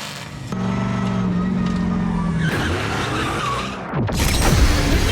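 Grassroots drift car at Shannonville Motorsport Park sliding sideways, engine roaring loud and steady as tires squeal and skid through the corner, with a second surge of screeching rubber near the end.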